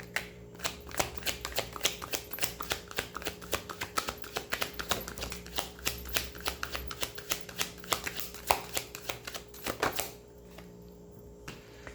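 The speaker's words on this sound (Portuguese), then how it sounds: "tirei todas as cartas" Playing cards being shuffled and drawn from a deck: a quick run of crisp, close riffling snaps and flicks, then a quieter pause near the end.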